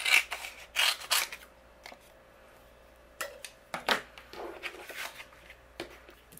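Scissors trimming floral print paper for a handmade card: a series of crisp, close snips in uneven bursts with brief pauses between cuts.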